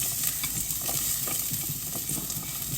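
Onion sizzling in a hot pan for arroz con pollo, a dense, steady frying hiss with soft stirring scrapes, close up and continuous, with no voices.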